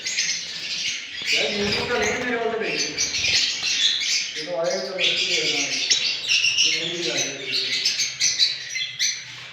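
Opaline budgerigars, including blue opaline birds, chirping busily in a breeding aviary, a dense near chatter of chirps and warbles throughout with speech-like tones mixed in.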